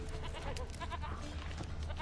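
A goat in the video game The Witcher 3 bleats faintly amid a busy, low game soundscape, a short wavering call partly blended into the background.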